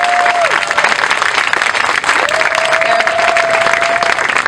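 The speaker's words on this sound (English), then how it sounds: "I want to give them a big round of applause" Sustained audience applause at a park dedication ceremony, dense steady clapping from a crowd, loud and unbroken throughout, with a faint tonal whine briefly sliding in the background.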